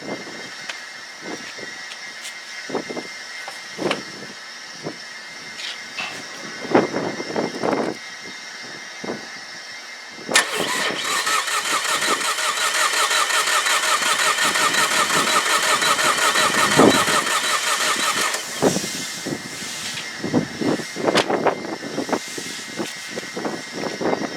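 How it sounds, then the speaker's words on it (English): A Saab 9-3 TiD diesel engine cranks repeatedly on the starter without firing, a steady whirring churn that rises and falls, loud and close. "the engine is cranking by starter motor, but it's not firing"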